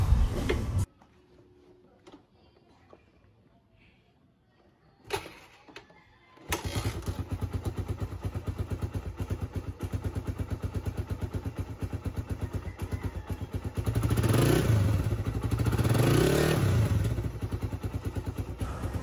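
A motorcycle engine on a project bike starts after a few clicks and clunks, then idles loudly with a fast, steady putter at a high idle, revving slightly near the end.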